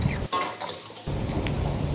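Meat frying in a pan with red chili and onion: a short burst of spatula scraping and clatter against the pan over a soft sizzle, close up, with no talk.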